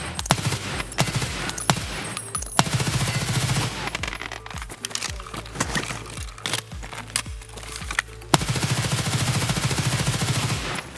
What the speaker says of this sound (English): Look at that hip fire.